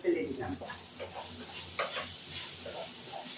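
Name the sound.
stirring spices frying in oil in a pan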